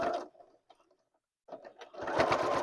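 A sewing machine stitches rope for a stand mixer cover, giving a short buzzing burst, a pause with faint clicks, then a louder sustained run of rapid needle strokes up close.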